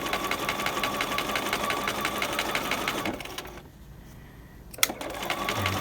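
A sewing machine running steadily with a standard 2.5 stitch through three layers of a folded garment and bias strip while stitching a dart, a fast even whirring chatter that pauses briefly, gives a sharp click, then resumes.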